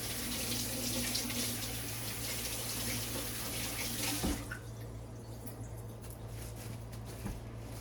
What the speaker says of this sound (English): I'll wash my hands off real quick.